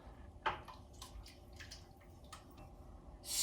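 Italian tomato gravy is stirred in a pot, giving soft, wet squelches and drips with light scraping in an irregular rhythm, faint and close.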